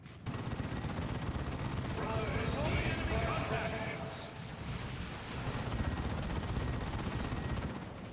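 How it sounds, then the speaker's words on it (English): A missile launcher fires in a Warhammer 40k Orks battle game, giving a continuous rumbling barrage of booms and crackling blasts that runs throughout, loud and dense with faint higher whistling sounds mixed in and voices talking underneath. "The missile launcher."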